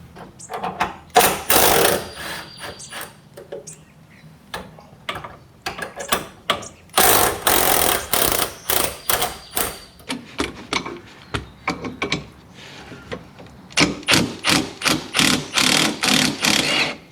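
Two 19 mm bolts holding a car's rear strut to the chassis are backed out with a ratcheting tool, giving close, sharp bursts of rapid clicking separated by short pauses.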